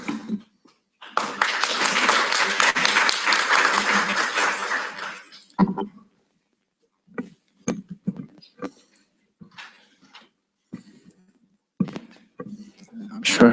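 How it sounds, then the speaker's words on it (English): Audience applause at a medical student conference on anesthesiology, intensive care and emergency medicine: loud, dense clapping for about four seconds that tapers off, followed by scattered speech from the room. "Applause for Sylvia."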